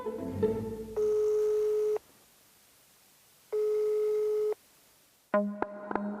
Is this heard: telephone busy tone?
yes